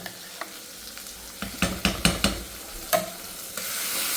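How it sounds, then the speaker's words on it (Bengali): Boiled garlic and onion fry in hot oil with a soft steady sizzle, while a utensil scrapes and clinks against the pan in a quick run of sharp knocks, then one more clack. "রসুন পেঁয়াজ দিয়ে সিদ্ধ করছি সিদ্ধ কইরা আর তেলে দিচ্ছি"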